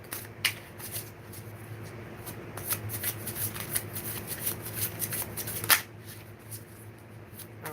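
Tarot cards shuffled by hand for a reading, a close, continuous run of crisp riffling and flicking with brief sharper snaps, quiet and steady throughout.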